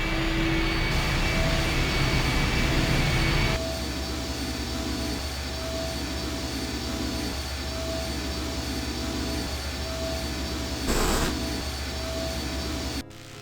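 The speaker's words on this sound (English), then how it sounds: "The engine's starting up again." An engine starts up in the horror adventure game I Have No Mouth And I Must Scream, a loud droning mechanical hum that drops to a steadier whine and runs continuously, with a brief surge near the end.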